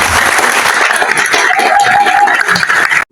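Dense, loud applause from an audience at an official installation ceremony for a new vaccination programme director, steady clapping for about three seconds before stopping abruptly.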